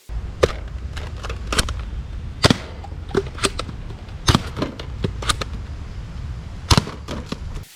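Nerf Dual Strike toy blaster firing in a string of sharp, snappy pops spread unevenly across several seconds, a few in quick pairs, close and loud over a quiet background.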